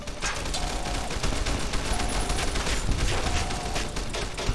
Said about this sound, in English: I'm blocking bullets